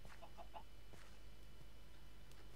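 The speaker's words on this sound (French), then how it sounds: "Il y a citrouille par contre, il y a des poules." Chickens cluck in a video game, likely the TaupeGun survival match: a few quick, quiet clucks in the first half-second, then a soft click, over a steady low hum, with no talking.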